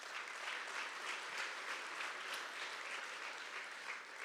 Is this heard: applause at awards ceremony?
yes